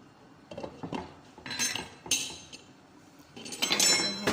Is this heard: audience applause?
no